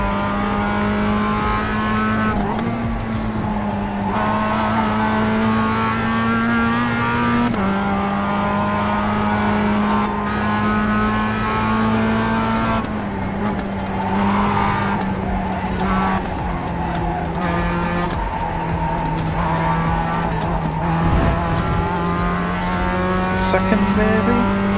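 A race car in the iRacing sim roars continuously with a raspy, rorty engine note. It shifts pitch through gear changes while tires squeal and skid throughout, loud and sustained.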